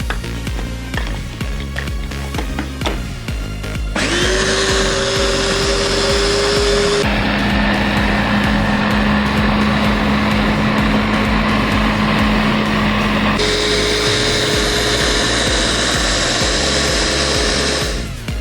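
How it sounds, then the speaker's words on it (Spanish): A kitchen blender whirs loudly and steadily while mixing light waffle batter with vanilla sweetener, its motor pitch shifting a couple of times as speed changes, running alone without talk for most of the stretch. "batimos estos ingredientes todos juntos"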